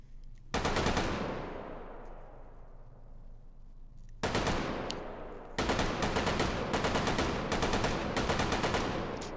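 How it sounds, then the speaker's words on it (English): Open-bolt Bren light machine gun, bipod version, fired in the video game Hot Dogs, Horseshoes & Hand Grenades: a loud automatic burst with a long echoing tail, then another burst, then several rapid back-to-back bursts, with no talking. "let's shoot this bipod version"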